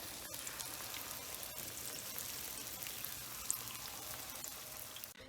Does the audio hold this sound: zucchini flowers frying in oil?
yes